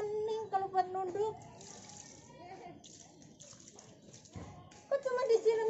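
Water splashes and pours while muddy feet are rinsed after a walk along a wet market path, with bursts of splashing and dribbling between pauses and people talking over it.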